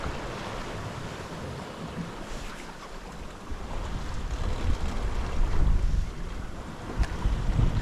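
Wind of about 12 knots rushes over a sailboat off the Isle of Skye, a steady close roar of wind buffeting the microphone mixed with the wash of waves, growing louder midway.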